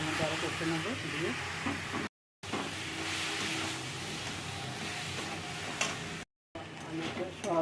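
Potatoes and soybeans fry with spices in a pan, a loud, continuous sizzle broken by scraping stirs, with a voice faintly underneath.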